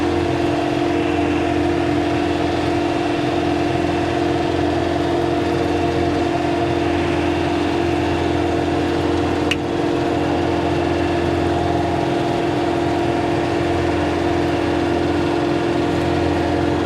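A John Deere 4066R compact tractor's engine runs steadily at a constant mid-pitched drone while mowing thick grass, loud and close, with no talk over it.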